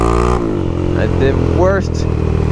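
A big single-cylinder motorcycle engine revs loudly and close during a wheelie attempt, the pitch dropping and then climbing in quick throttle blips, with a voice talking over it.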